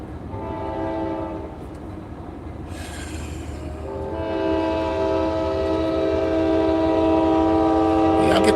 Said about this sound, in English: Y'all get to see a train.